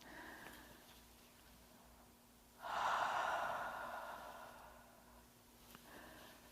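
One slow, deep breath drawn and released during a gentle seated chair yoga session: a soft, airy rush that swells then tapers away against a quiet room.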